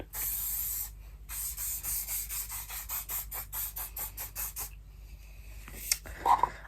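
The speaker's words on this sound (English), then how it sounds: "I'm actually just going to douse my head in hairspray" Hairspray from an aerosol can is sprayed onto hair, first in one long hiss and then in a rapid series of short bursts, close and clear, followed by brief rustling.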